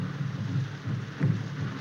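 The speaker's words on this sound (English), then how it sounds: "This rain and the drum." Steady rain falling at night in a 1932 drama, a continuous soft hiss with low rumbling swells, fairly quiet and without voices.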